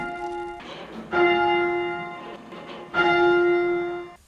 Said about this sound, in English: Before the bells can be used, they are rung up, which means set into an upright position.